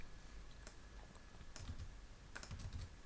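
Typing on a computer keyboard, a few faint scattered clicks and short bursts of keystrokes, close and quiet over a low background hiss, no voices.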